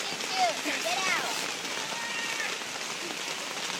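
Rain falling steadily as a soft, even hiss throughout, with people talking and calling out over it indoors.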